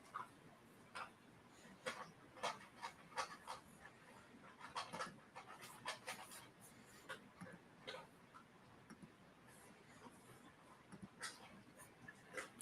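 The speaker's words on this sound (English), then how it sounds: "That's my doggy eating." A dog eats nearby, with soft irregular crunching, licking and panting noises scattered through a quiet indoor room, faint and close, with no talking.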